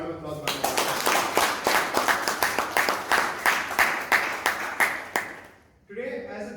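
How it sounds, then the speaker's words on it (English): Applause at a Toastmasters club meeting in Bangalore, made of distinct rhythmic claps from a small group, close and regular, fading out before a voice starts speaking at the end. "So a round of applause."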